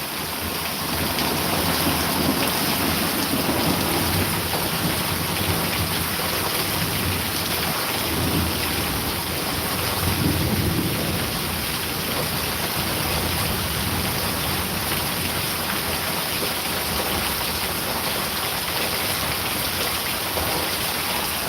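Heavy rain pours steadily over a backyard garden during a major thunderstorm, with deep thunder rumbling through the downpour, loud and continuous with no talking.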